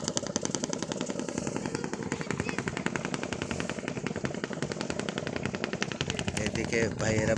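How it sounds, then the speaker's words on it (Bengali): The engine of a sand-dredging trawler boat passing on a river makes a rapid, steady mechanical chugging. It is loud and close and continues unbroken with a hard, rattling thump. "নদীতে বালু তোলা ট্রলার যাচ্ছে বালু নিতে"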